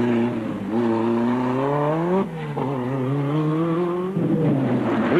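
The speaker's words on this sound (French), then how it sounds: "la 5 Turbo joue de son agilité sur les routes hivernales du Monte Carlo" A Renault 5 Turbo rally car driving on wintry Monte Carlo roads, its engine revving up and down through gear changes in a steady, close, loud drone.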